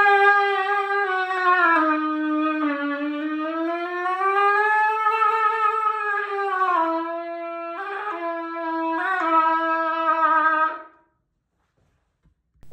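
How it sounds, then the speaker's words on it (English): An oboe played through a trumpet-style mouthpiece gives a bright, buzzy brass-like melody of sustained, sliding notes, alone, ending in silence. "I will be exclusively playing Oboe Alla Tromba, which sounds like this."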